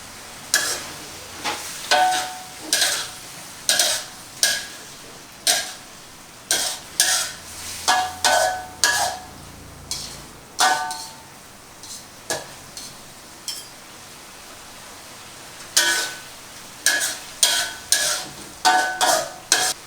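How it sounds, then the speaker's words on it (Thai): Kale stir-fried in a pan with canned fish and a little sugar, a spatula scraping and stirring in repeated rhythmic strokes with light sizzling beneath, close and fairly loud, with no talking. "แล้วก็ผัดให้เข้ากันหลังจากนั้นก็ชิมรสชาติ"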